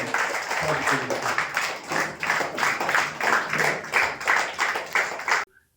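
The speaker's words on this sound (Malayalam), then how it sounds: "നമുക്ക് ഒരു നല്ല കയ്യടി എഴുന്നേറ്റ്" Applause from an audience at a club installation ceremony, a dense sustained clapping with rhythmic swells that carries on for several seconds and then stops abruptly.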